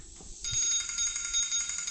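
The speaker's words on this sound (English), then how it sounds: "My phone is ringing." A phone ringing in a garage during a gear swap on a K20-powered DC5 Integra: a bright, steady electronic ring that starts partway in and continues, fairly loud and close, over low background noise.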